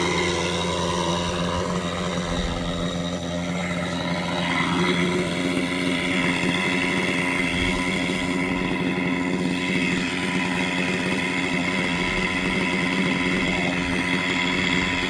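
An 80s-era German nitro RC helicopter engine runs steadily throughout, a loud, continuous buzzing drone with high whining harmonics and no speech.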